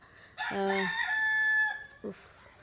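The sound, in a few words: rooster crowing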